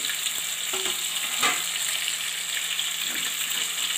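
Chicken and vegetables fry in a pan for Chinese-style rice, giving a steady close sizzle with occasional stirring clinks and scrapes, no talking over it.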